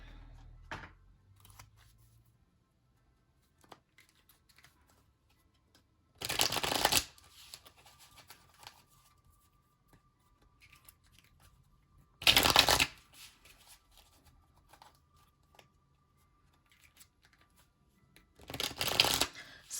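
A deck of cards is shuffled in three brief crisp riffling bursts spaced several seconds apart, close and otherwise quiet between them.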